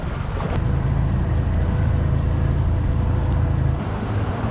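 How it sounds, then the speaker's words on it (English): A new dinghy on its first trip of the season motors across the water with a steady, loud engine drone and rushing wind and water noise, close up. "First dinghy trip of the season in the new dinghy."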